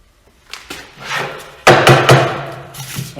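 A router with a 1/2 inch Forstner bit whirs into wood in short bursts, boring holes, with knocks and clunks as the board shifts, close and fairly loud.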